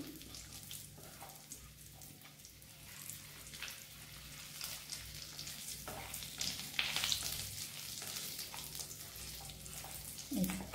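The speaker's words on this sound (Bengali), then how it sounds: "তোমার জিরেটা ভাজা হোক।" Cumin seeds frying in hot ghee for khichuri make a steady, moderate sizzle and crackle throughout, with occasional clinks of a stirring utensil and louder spits near the end.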